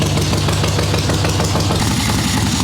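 Swap meet chopper motorcycle engine with a Mikuni VM38 carburetor idling steadily on choke, a loud, close, continuous rumble with an even throbbing beat and no talk.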